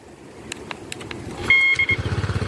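A Honda Vario 125 scooter fires up via its alarm remote's starter button: a few short beeps and a brief tone, then the engine catches and settles into a steady, pulsing idle nearby.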